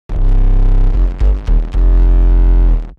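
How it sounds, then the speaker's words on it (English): A deep, heavily distorted 808 bass booms in sustained notes with a gritty, saturated edge, cutting briefly between hits. "I open it up with a parallel distortion on the 808"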